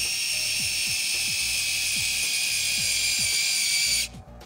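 A cordless electric drill spins in reverse, driving a Tamiya 5mm reinforced adjuster into a turnbuckle, a steady high whine with a rhythmic ratcheting click about every half second before it stops.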